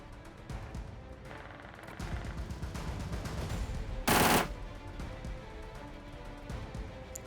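Gunfire from PUBG Mobile: a steady background of rapid shots and rumble, with one loud burst standing out briefly midway.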